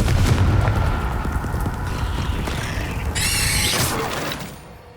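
A Confringo spell explosion in the video game Hogwarts Legacy, a loud booming blast with a crackling, shattering rumble that holds steady before tailing off, with no talking over it.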